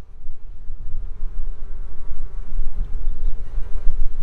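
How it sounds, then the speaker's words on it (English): Bees swarm around an open beehive with honey-filled boxes, producing a steady, dense buzzing hum close by that carries without pause and with no talk. "Look at all these bees."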